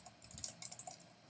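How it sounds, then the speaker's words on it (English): Quick, close bursts of typing on a computer keyboard: rapid uneven key clicks rattle steadily for just over a second with no talking. "now in here type in web class"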